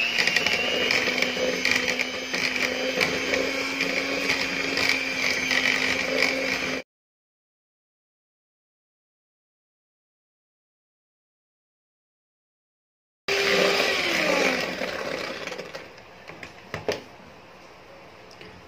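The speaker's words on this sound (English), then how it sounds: "i-cream na natin yung ating butter" Electric mixer creaming a cup of butter for brownie batter, a steady whirring motor hum that cuts off for several seconds, then resumes and runs on.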